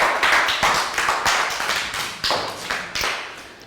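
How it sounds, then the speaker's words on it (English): A small group of primary school children clap in a classroom in uneven bursts, close by, the applause swelling and fading a few times before stopping. "Round of applause for Prel."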